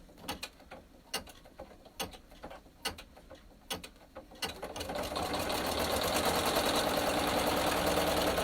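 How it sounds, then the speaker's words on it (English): An embroidery machine stitches a tack-down on vinyl: a few sharp mechanical clicks first, then the needle starts a fast, steady, buzzing stitch rhythm that gets louder and carries on to the end. It is close, with no talking. "I'm going to go ahead and stitch the tack down"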